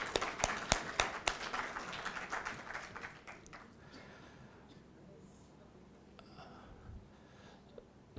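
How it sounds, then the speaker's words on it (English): Conference audience at an Islamic economics and finance gathering gives the organizers a brief burst of scattered clapping that fades within a few seconds, followed by low room noise and faint murmuring. "round of applause for everybody"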